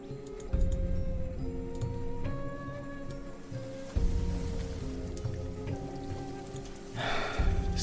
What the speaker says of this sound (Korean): 그 토악질 소리가 들리지 않자 빗소리만이 주위를 감쌌다.